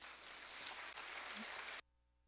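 An audience at the opening of the Nordestão 2018 event claps in loud, dense, steady applause. It stops abruptly after about two seconds, leaving near silence.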